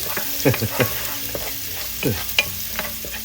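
Garlic browns in a pan over medium-high heat, giving a steady close sizzle broken by a few spatula scrapes and light clinks, with no talking.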